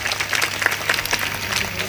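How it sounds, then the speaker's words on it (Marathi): A kirtan audience at a Maratha reservation hunger-strike gathering breaks into brief, dense applause, many hands clapping loudly and close together. "यांच्यासाठी जोरदार टाळ्या वाजवा एकदा"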